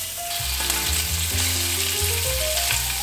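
Meat searing in a hot pan, a dense continuous sizzle and crackle up close, with faint tonal hum beneath and no talking.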